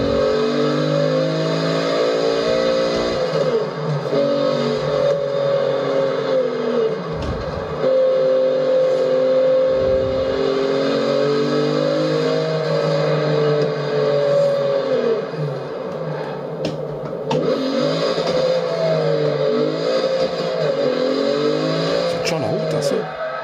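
A 1987 Buick Regal GNX engine in a racing video game revs and drones continuously at high pitch, shifting up and down through gears, loud and close throughout.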